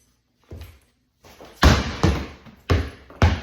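A 2-pound ball is thrown hard into the floor or a wall in a pitching injury-prevention drill, giving four loud, heavy thuds in a fairly steady rhythm after a quieter lighter knock, each slam close and sharp with a short decay.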